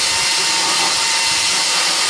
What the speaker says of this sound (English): Put it onto a drill